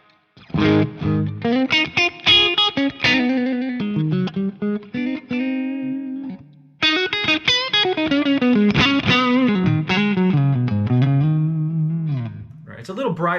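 Friedman IR-X amp with its bright switch on drives a distorted electric guitar, loud and close, playing sustained chords and riffs with a short pause midway before the crunchy tone returns.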